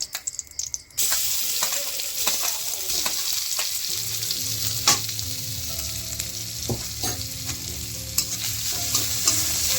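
Ginger garlic paste fries in a pan while being stirred, a loud close sizzle with frequent scraping knocks; a brief rougher burst opens before the steady frying settles in.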